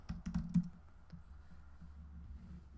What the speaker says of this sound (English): I'm going to type lotion.